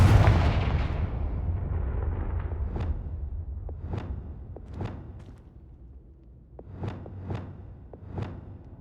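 Confringo blast spell in the Hogwarts Legacy video game: a heavy rumbling explosion decays, then a string of sharp cracking blasts and thuds follows at irregular intervals, fairly loud against a quiet background.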